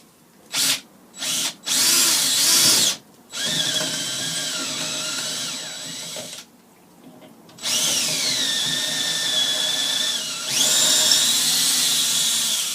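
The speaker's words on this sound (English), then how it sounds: "If you get the right size bit in the drill, it should by rights catch it, bore into it" A power drill whirs in several bursts, first short stop-start pulses, then longer loud runs with rising and falling pitch as it bores into a walking stick cap.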